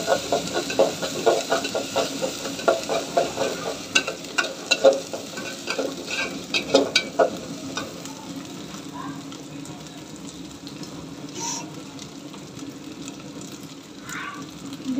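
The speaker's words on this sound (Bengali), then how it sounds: "এখন দিয়ে দেবো সামান্য পরিমাণ আদা রসুন বাটা। ভালো করে ভেজে নেব।" Ginger-garlic paste fries in a pan, with a steady sizzle under brisk, rhythmic spoon scrapes for the first half, then a quieter, even frying hiss with occasional light knocks.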